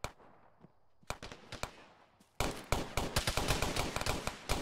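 Rapid bursts of gunfire in a military shooter video game, sparse single shots at first, then dense overlapping volleys of automatic fire that grow loud and continuous.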